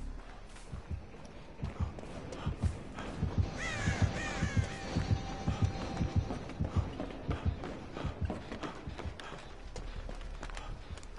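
Several crows caw in a survival video game, harsh calls repeating over a steady rhythmic thudding of footsteps or hooves, fairly close and continuing throughout.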